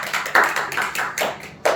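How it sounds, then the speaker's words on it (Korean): A prayer meeting group applauds, a short burst of clapping in an indoor gathering, with several distinct swells of hand claps rising and falling across the moment. "그런 의미에서 박수일 거예요."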